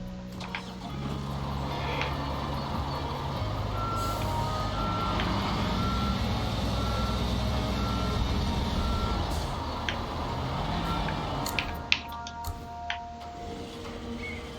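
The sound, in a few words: truck reversing beeps in Construction Simulator Europe video game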